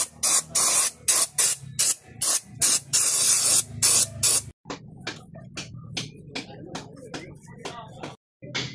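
Spray cleaning a motorcycle bendix drive, with loud repeated hissing bursts of aerosol in quick pulses, then softer shorter sprays with small handling noises between them.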